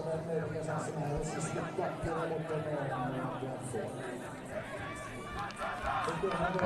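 Crowd noise and chatter along the finish stretch of a men's 10 km interval-start cross-country ski race at the FIS U23 World Ski Championships in Lillehammer, a steady babble of spectators under continuous talk.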